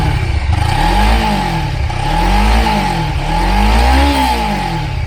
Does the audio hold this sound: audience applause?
no